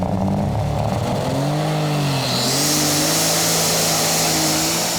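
A tractor engine revs and strains nearby at a tractor pulling competition, its pitch rising and shifting as it accelerates, with a loud hiss building in the second half.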